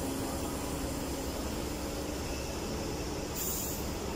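A passenger train stands at track 3 of Martin station in Slovakia, giving a steady low rumble of rail noise with a brief high squeal near the end, and no voices over it.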